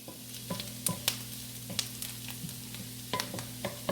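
Vegetables sautéing in a pan while being stirred, giving a faint steady sizzle broken by sharp clinks and scrapes of the spoon against the pan. No one speaks.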